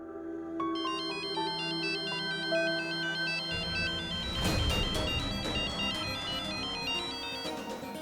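A melodic electronic phone ringtone plays steadily and loudly, repeating its bright tune throughout, with a brief rustling bump midway.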